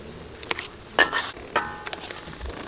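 Catfish pieces dropped into a simmering chu chee curry in a pan, giving a soft bubbling sizzle broken by a few sharp clinks and splashes.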